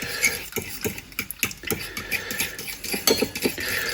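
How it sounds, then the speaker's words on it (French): A fork scrapes and clinks against a bowl while cinnamon roll dough ingredients, including room-temperature milk, are stirred together, giving rapid irregular taps close by. "on mélange simplement."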